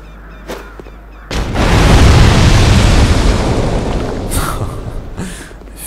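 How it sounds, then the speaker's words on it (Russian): An explosion in Dark Souls II erupts in the Forest of Fallen Giants as a loud, heavy blast with a deep rumble that swells and slowly decays over several seconds, preceded by a few sharp game clicks and hits. "Эффектный взрыв."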